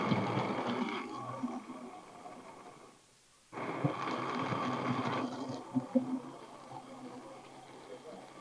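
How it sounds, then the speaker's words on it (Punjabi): An electric grinder blends falsa berry juice in a jug, giving a loud whirring motor drone that stops briefly, then restarts and runs steadily, with someone speaking around it. "ਆਪਾਂ ਇਹਨੂੰ ਮਸ਼ੀਨ ਤੇ ਰੱਖ ਕੇ ਤੇ ਲਾਈਏ ਜੱਗ ਨੂੰ ਰਗੜਾ, ਤੇ ਹੁਣ ਲਾਈਏ ਇਹਦਾ ਸੁੱਚ"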